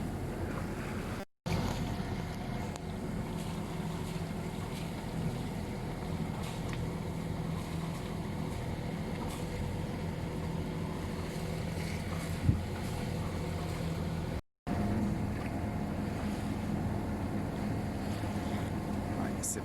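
A sailboat runs under sail at sea off La Ciotat, with a continuous rush of wind and water noise and a low steady drone throughout, broken by two very brief dropouts.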